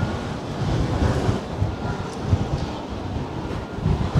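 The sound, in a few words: wind blowing on the Blackpool seafront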